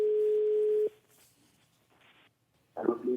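A steady telephone dial tone sounds alone for just under a second while a call is being placed, then cuts off into quiet line noise before a voice comes in near the end.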